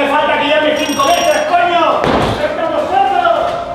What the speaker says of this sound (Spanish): toca el timbre